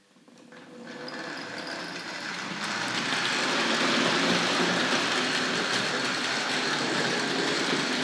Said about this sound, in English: Let's get close up to the locomotive as she moves away.